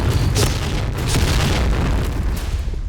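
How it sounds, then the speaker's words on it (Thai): Heavy, rumbling booms from explosions on a warship level in the shooter game Point Blank, with a dense low-end roar, continuous and loud throughout, with a few sharper bursts layered on top. "ระเบิดขนาดนี้เรือไม่พังหรอวะ"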